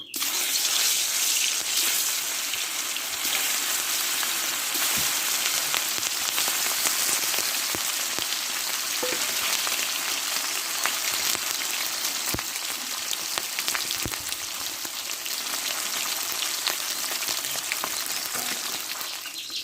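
Fish rubbed with salt and turmeric fries in mustard oil in a hot kadai, giving a steady, dense, close sizzle that stays loud and even throughout with no voices.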